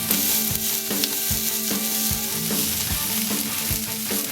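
Chopped onions, carrot and celery sizzle steadily in a hot pan for a shepherd's pie, with a continuous close frying hiss and occasional soft stirring scrapes, with no voices.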